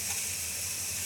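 Onions frying in a pan for a palak chicken curry, a steady bright sizzling hiss, close and constant, with no talk.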